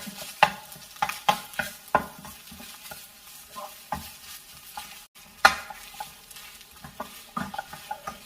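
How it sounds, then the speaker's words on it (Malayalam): Boiled potatoes being mashed and stirred in a pan for a potato curry, with irregular soft squelching scrapes and light taps of the spoon, close and fairly quiet, no voices. "ഇതുപോലെ നന്നായിട്ടൊന്ന് ഉടച്ചെടുക്കുക"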